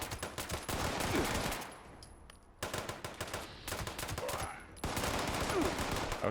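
Repeated gunfire from a Fallout 76 weapon, sharp shots crackling in rapid bursts with two brief pauses between volleys, loud and close throughout.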